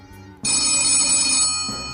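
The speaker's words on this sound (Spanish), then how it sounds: "el teléfono resonó estridente, rompiendo el único ruido de lluvia que llenaba el ambiente." A telephone rings shrilly in a dramatized radio story, one bright electronic ring bursting in abruptly, loud and close, then tailing off.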